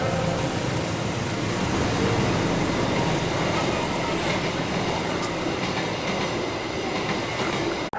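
A train passes close by on the railway line to Tanjung Balai in Kisaran Timur. Its loud, continuous roar and wheel rumble fill the whole stretch, with faint clatter and no clear voices.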